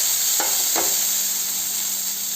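Ridge gourd peel fries in a pan with a loud, steady sizzling hiss throughout, broken early by two brief clattering touches.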